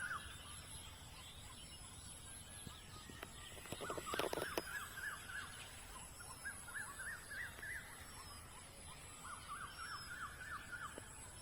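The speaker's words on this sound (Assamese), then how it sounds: "এই চৰাইৰ মাত শুনা পাই আছে" Evening birdsong at a farm in Assam as birds return to roost in a tree: many faint, distant chirps and calls overlapping steadily throughout, with a brief busier burst midway.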